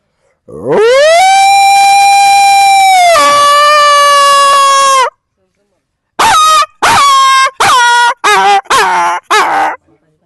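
A man imitates a dog yelping after being hit: a long, loud, wavering howl-like cry, a pause, then a rapid series of six short sharp yelps.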